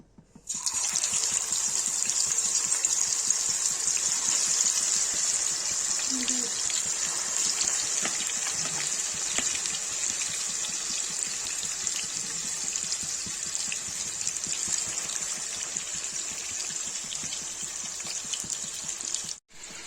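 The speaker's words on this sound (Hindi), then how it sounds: "देखिए गाइस, चिकन फ्राई हो रहा है" Marinated chicken fries in hot oil for restaurant-style butter chicken, giving a continuous, fairly loud sizzling hiss that holds steady throughout and cuts off at the very end.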